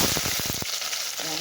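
Mustard seeds and vadagam fry in hot oil, giving a loud, dense sizzle with a burst of sharp popping crackles over the first half second before settling into steady hissing.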